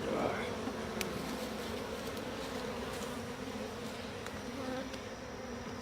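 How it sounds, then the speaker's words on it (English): Bees inside a hive box in Yaguarón, Paraguay, humming in a soft, constant buzz that holds steady throughout, faint and close, with no voices. "There's a bunch of bees in there"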